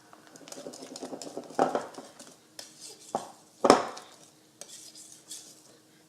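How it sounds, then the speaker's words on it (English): A utensil clinks and scrapes against a bowl in scattered knocks while Cool Whip is folded into banana pudding, a few sharper taps standing out against near quiet. "You want to keep mixing that until you no longer see any of the Cool Whip by itself."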